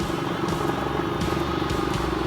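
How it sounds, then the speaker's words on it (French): A rough, droning car engine with suspected injector trouble idles steadily with a low buzzing hum and faint crackle, no voices over it. "Oh, le moteur il fait du bruit par contre."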